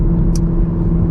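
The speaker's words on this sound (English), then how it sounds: "And this is a loud car." A stock 2022 Camaro 2SS 1LE V8 droning loudly and close, a steady deep engine rumble with a brief higher burst near the start, no voices.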